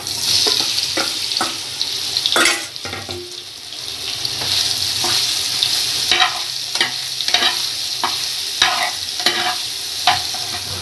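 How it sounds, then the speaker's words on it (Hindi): Marinated soybeans fry and sizzle in a little oil, with a steady hiss throughout and repeated sharp scraping strokes from a stirring spoon against the pan, close and loud. "अब इसको थोड़ा सा फ्राई करेंगे"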